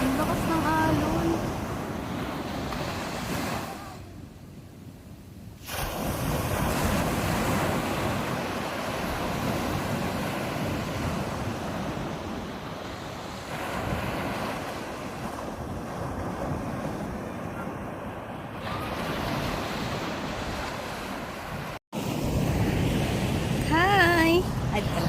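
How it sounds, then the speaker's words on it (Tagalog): Strong ocean waves surge and crash at a beach in Cabangan, Zambales, a loud continuous roar with wind buffeting the microphone and a few brief lulls, while people talk and call out at times. "Ang lakas ng alon."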